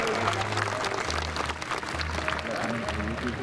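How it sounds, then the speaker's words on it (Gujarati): An audience at a Patidar community gathering at Khodaldham applauds to welcome Nareshbhai, a steady, dense clapping that fills the whole stretch at an even level, with faint voices underneath. "તાળીઓથી એમને આપણે વધાવીએ"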